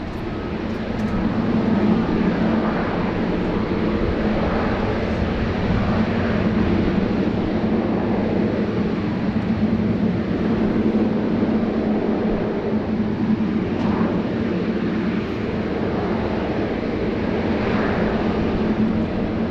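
A jet airliner at Sydney Airport, departing on a flight to Jakarta, gives off a loud continuous roar that holds steady for twenty seconds with no talk over it.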